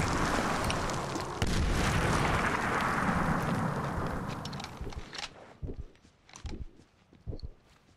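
A mortar explosion in the war shooter Medal of Honor Warfighter: a loud, sustained roaring blast and rumble for several seconds, then fading into a series of sharper separate bangs and debris impacts.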